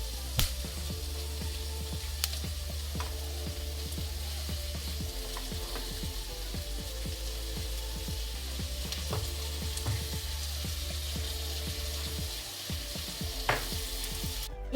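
Mustard seeds, asafoetida and curry leaves crackle and sizzle in hot oil as a tempering for a Palakkad-style pirkangai dal kootu. A steady close frying hiss runs throughout, with scattered pops and clicks and no talk.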